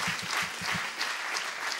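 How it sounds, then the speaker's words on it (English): Applause from an event audience for the referees, a steady broadband wash of clapping that fills the short moment at moderate volume with no talk over it. "a big round of applause for them referees, massive round of applause"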